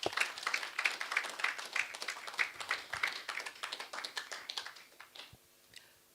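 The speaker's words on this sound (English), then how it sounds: "I believe we deserve a round of applause." A crowd of military cadets in a 1990s ceremony breaks into sustained applause, dense clapping that stays steady for about five seconds before fading out.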